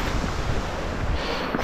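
A mountain waterfall stream on the Pyg Track up Snowdon pours steadily as a continuous broadband rush, loud and close throughout, with some wind buffeting the microphone.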